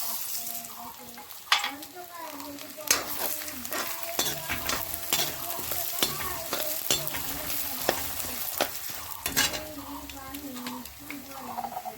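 Dal sizzling in hot oil with cumin and dry red chillies in a pan for daliya khichuri, a steady close fry with repeated scraping strokes of a spoon throughout.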